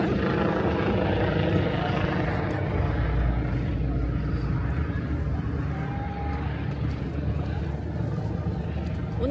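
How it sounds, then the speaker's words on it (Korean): A helicopter hovers overhead at night during the Hangang Light Island Festival in Seoul, a continuous broad rumbling drone that stays steady throughout, with faint voices in the background. "저 헬기는 왜 떠다니는 건가요?"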